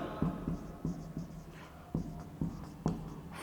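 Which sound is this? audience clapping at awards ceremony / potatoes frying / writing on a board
writing on a board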